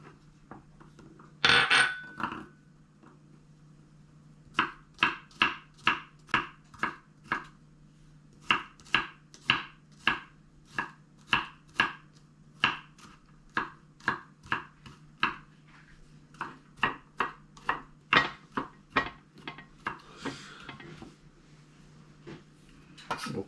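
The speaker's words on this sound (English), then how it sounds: "just slice like that, and the other half I'm gonna mince it" A knife slices and minces a cucumber on a cutting board in quick, crisp, evenly spaced chops, alone and close, with short pauses between bursts.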